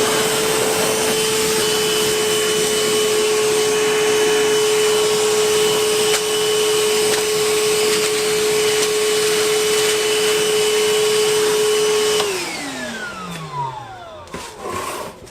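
Milwaukee M18 cordless wet/dry vacuum running as a blower outdoors over cement, a steady loud motor whine and rushing air for about twelve seconds, then winding down with a falling pitch as it switches off.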